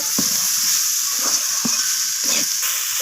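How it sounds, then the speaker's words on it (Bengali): Mixed vegetables with peas sautéing in hot oil, a steady close sizzle and frying hiss with a few soft stirring knocks of a spoon in the pan. "এখন অ্যাড করলাম তো আবারও আমি মিনিট কাছের মতো কষিয়ে নেব"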